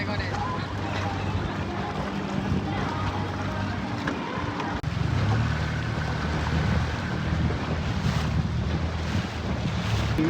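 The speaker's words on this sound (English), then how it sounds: "we managed to get the outboard started and we're on our way" An outboard motor drones steadily on a small cruising boat at sea off Malta, its low engine hum running throughout under heavy wind buffeting and nearby talk.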